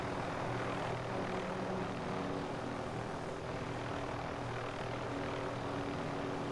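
A helicopter in Call of Duty Warzone drones with a steady rotor and engine hum, continuous and moderately distant throughout.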